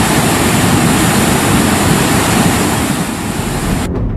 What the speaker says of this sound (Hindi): हिमाचल के कुल्लू में भारी बारिश की वजह से ब्यास नदी रौद्र रूप दिखा रही है।